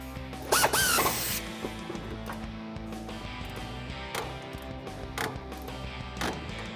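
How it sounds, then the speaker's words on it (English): Ratchet wrench tightening a sway bar end link on a 1994-2004 Mustang during a coilover install, with clicking turns, metallic creaks and a brief louder burst of clatter near the start, close by in a garage with no talking. "let's tighten up our sway bar end link here"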